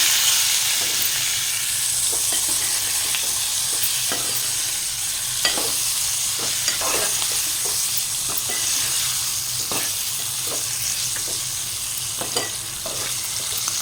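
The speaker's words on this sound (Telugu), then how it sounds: "చింతపండు జీలకర్ర మొత్తంగా వేసుకున్నాం కదా కలుపుకున్నాం ఒకసారి" Eggplant chutney with tamarind, cumin and garlic being stirred in a hot pan, a constant loud sizzling hiss broken by soft, irregular scrapes of the spoon, near and steady throughout.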